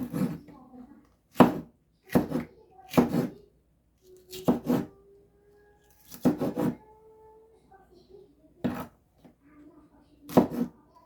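Chili pepper being chopped for a grilling sauce, with sharp knife strikes on a board coming in short bursts separated by pauses, close and distinct.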